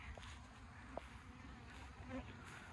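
Honey bees buzz faintly and steadily in the background, a low continuous drone with a few brief louder passes close by.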